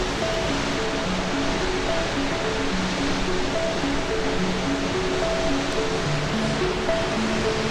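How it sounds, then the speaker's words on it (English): Mitchell River Falls in the Kimberley roars as a continuous, dense wash of falling water, steady and full without a break, with faint scattered tonal chirps, likely birds, above the rushing noise. "There you have it. Mitchell River Falls."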